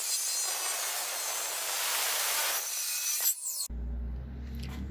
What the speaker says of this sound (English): So we're going to cut it off about here to give me an upright piece.